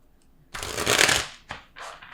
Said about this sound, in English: Let me give it one more good shuffle, maybe 2.